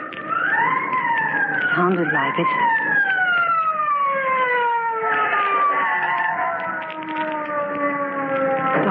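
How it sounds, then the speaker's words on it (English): Police car siren in a 1945 radio horror drama, wailing and sweeping up and down in loud, overlapping rising and falling tones for several seconds, with a voice speaking briefly over it. "Listen. Police car."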